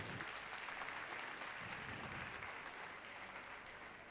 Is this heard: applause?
yes